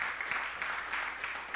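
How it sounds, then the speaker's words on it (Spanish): Applause from a church congregation during a Sunday service, a steady wash of clapping filling the short span at moderate volume with no talk over it. "dele un aplauso al Señor por eso"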